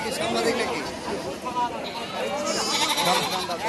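Goats bleat repeatedly at a busy goat market in Naogaon, Bangladesh, their wavering cries rising over a constant murmur of crowd chatter.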